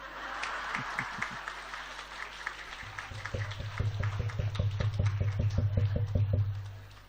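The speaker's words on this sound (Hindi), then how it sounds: "सबसे जोरदार तालियां अब बजी" Audience at a satsang breaking into applause, a dense crowd of clapping that settles into rhythmic unison claps and builds in strength before fading.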